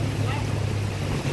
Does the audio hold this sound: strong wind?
yes